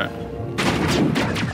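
Enemy gunfire in Mass Effect rattles in a sudden burst of rapid shots aimed at the player, loud and dense over a low background hum, with several sharp cracks in quick succession.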